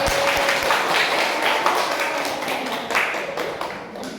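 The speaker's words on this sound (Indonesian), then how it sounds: "Kita beri tepuk tangan untuk para tutor-tutor hebat kita." A room of workshop participants gives a round of clapping for their tutors, brisk and fairly close, the applause tapering off gradually over a few seconds without any speech.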